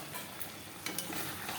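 Meat being fried in a pan sizzles continuously at close range, a dense hissing crackle with a few faint scrapes of stirring and no talk.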